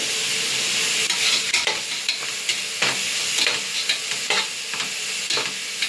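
Chopped tomatoes sauté in a hot pan for mushroom biryani, giving a steady sizzle broken by repeated scraping stirs of a spoon, close up and without talk.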